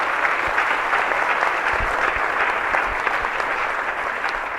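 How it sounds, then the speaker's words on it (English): A conference audience at a business forum breakfast panel applauds the panelists, steady dense clapping sustained throughout at an even, fairly loud level with no talk over it. "So, big round of applause for our panelists so far."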